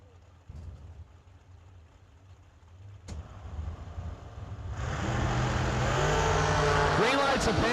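Dragsters at a drag race, including an undercover chassis dragster, start with a low idling rumble and a sharp crack, then build into a loud, roaring launch that grows steadily louder over the final seconds.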